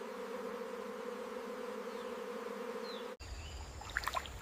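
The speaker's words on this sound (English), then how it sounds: "thousands of bees work together around a busy natural hive" Bees swarm around a busy natural hive in the Sundarbans forest, making a steady, close buzzing drone for about three seconds before it cuts off abruptly.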